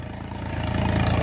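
Sonalika DI-50 tractor engine running in a field in second gear, a steady low diesel chug that swells slightly louder toward the end, close by and without talk.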